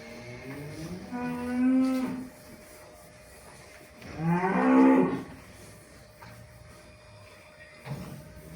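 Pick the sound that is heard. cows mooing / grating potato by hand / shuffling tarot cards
cows mooing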